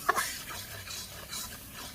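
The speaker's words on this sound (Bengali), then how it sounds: "আমি কিন্তু ভালো করে নেড়ে ছেড়ে দিচ্ছি।" A spoon stirring spice masala with salt and turmeric in a cooking pot, a short close scraping and rubbing over a continuous soft sizzle.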